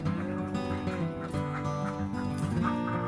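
Laying ducks on a farm give off a dense, overlapping mix of nasal calls and honking cries at close range, continuous throughout with no talk.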